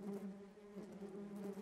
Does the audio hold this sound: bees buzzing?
yes